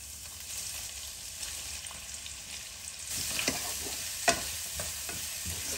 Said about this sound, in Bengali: এবার আরেকটা প্যানে তেল গরম করে এর মধ্যে 5 ফোড়ন দিব অল্প একটু, তারপরে একটা তেজপাতা, একটুখানি দারচিনি আর 1 কাপ কুচি করে রাখা পেঁয়াজ দিয়ে দিব।